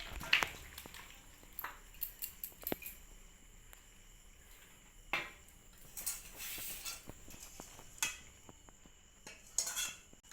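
Sweet mango pickle is transferred into another container with scattered metallic clinks and scrapes of a spoon against the pot, fairly quiet and irregular against low room noise.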